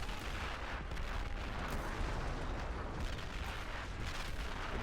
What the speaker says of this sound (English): Oh, we're under artillery fire.